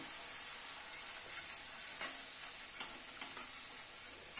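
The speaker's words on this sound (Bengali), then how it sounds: "সব মশলাগুলোকে দিয়ে গ্যাসের ফ্লেমটাকে মিডিয়ামে রেখে মশলাটাকে ভালো করে কষিয়ে নেব।" Spices with three green chillies and pounded ginger paste fry in a pan over a medium gas flame for a cauliflower dish, giving a steady, soft sizzling hiss broken by a few light stirring scrapes.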